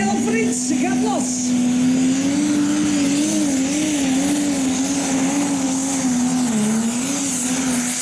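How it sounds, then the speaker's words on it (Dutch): John Deere tractor engine at a prostock tractor pulling event, a loud steady droning roar whose pitch wavers slightly as it pulls, sustained throughout with crowd noise in the background. "Jazeker, horen wij de John Deere aan het eind."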